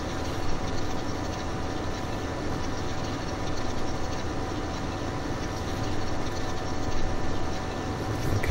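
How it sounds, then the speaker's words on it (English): A powerful tractor from a DLC pack in Farming Simulator 2015 drones steadily at a constant loud engine hum with slight rhythmic fluctuation, alone without talk. "It's probably the most powerful tractor we've got actually."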